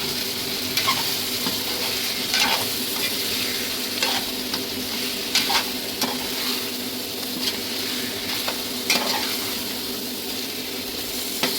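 A spoon stirs Chaduva fish curry with chili powder in a pan over steady loud sizzling, with soft periodic scrapes and clinks against the pan, close and continuous.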